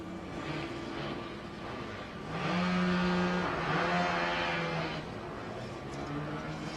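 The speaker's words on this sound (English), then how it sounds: "And there goes the UTS vehicle for the first time round on Skidpad." Formula SAE electric race car lapping a skidpad at the 2016 Australasian Formula SAE competition, a steady motor whine that swells louder for a couple of seconds mid-pass before settling back to a constant hum.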